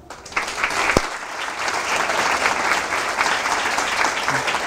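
An audience at a philosophy talk breaks into applause to welcome a speaker, the clapping swelling within the first half second and then holding dense and steady, with a few voices faintly mixed in.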